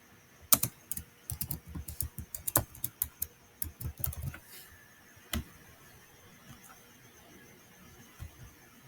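Typing on a computer keyboard while setting up a website plugin, a busy run of close, crisp key clicks for about four seconds, then a few isolated taps with quiet gaps.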